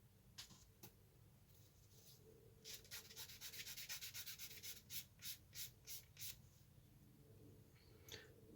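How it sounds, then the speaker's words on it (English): A sanding stick rubs along the outside edges of a small plastic 1:72 scale De Havilland Mosquito model kit part, making close, quiet scratchy swipes in a quick rhythmic series with a few scattered strokes before and after. "few swipes with a sanding stick like so on the outside edges to clean them up."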